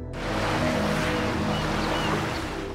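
Waves wash onto a beach in a broad, continuous surf roar, with a soft wind rush and no voices.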